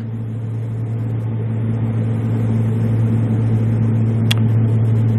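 Steady loud engine drone of a light airplane held at full throttle while recovering from a stall, with a constant low tonal hum running unbroken throughout and no talk.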